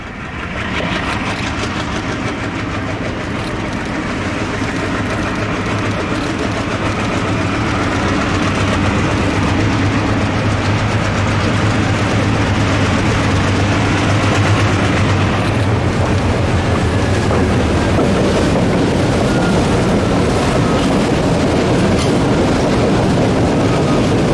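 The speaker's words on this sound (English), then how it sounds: "As soon as he is aboard, the ALCOs chug ahead." Smoky ALCO diesel locomotives on the Delaware Lackawanna in the Poconos chug ahead, a loud, close, continuous heavy engine throb that builds slightly and stays steady with faint rail clatter.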